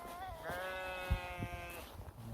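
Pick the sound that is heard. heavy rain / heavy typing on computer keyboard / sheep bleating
sheep bleating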